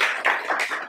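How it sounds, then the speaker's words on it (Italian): Applause from a small audience at a novel presentation, a brief burst of rapid, dense clapping at close range with no voices. "io la accoglierei con un applauso"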